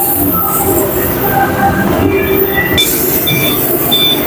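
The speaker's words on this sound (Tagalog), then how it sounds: "Yan o, railroad" A train rolls past on a railroad near Sky Ranch in Tagaytay, a loud continuous rumble of wheels on track with high metallic squeals sounding throughout, close by and steady, with no talk over it.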